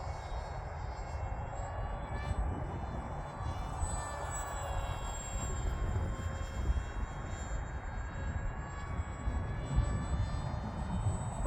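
A small HobbyKing Sonic Mini radio-controlled plane flies outdoors in the cold, its electric motor a steady high-pitched whine that shifts in pitch as it passes, moderately distant and continuous throughout.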